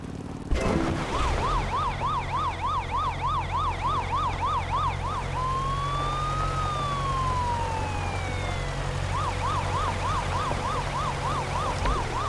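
An ambulance siren in a bridge-building video game wails steadily in a fast, regular up-and-down pattern, breaks into a single long rising and falling sweep, then resumes the rapid warble over a constant low engine-like drone.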